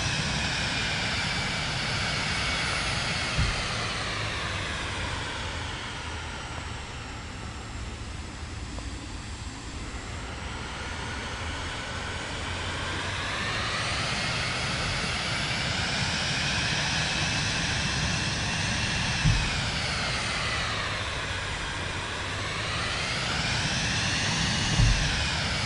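An aircraft engine in Microsoft Flight Simulator 2024 throttles up on a snowy surface, roaring steadily and continuously with its pitch rising, falling and rising again, loud and close with no voices.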